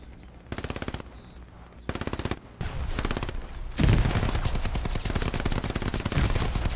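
Suppressive machine gun fire in Hell Let Loose, starting as short rapid bursts and building into sustained, dense automatic fire at moderate distance, with no voice over it.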